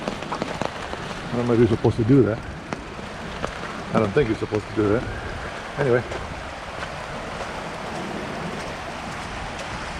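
Steady rain falls outdoors at Eagle Falls, a dense hiss of drops on wet ground and foliage, while someone talks intermittently over it near the start.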